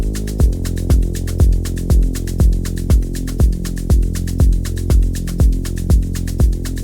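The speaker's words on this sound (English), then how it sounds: "The first bass pattern I'm going to show you is the Reesebass," A Reese bass pattern for Afro and melodic house, looping as a deep, thick, detuned bass under a steady four-on-the-floor kick, with regular punchy hits about twice per second, loud and alone.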